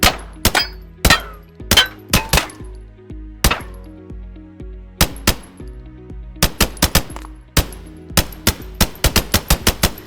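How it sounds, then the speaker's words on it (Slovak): Glock 17 pistol shots hitting targets in Minecraft, sharp game gunfire cracks with metallic clinks, fired singly at first, then in quick uneven bursts, loud and close with no talking. "Trafili sme všetky terče s Glockom, tak to som rád."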